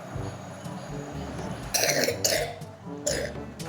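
Someone with a cold coughs several times in short, harsh bursts at close range, amid low household background noise.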